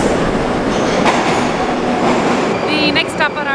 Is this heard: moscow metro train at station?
yes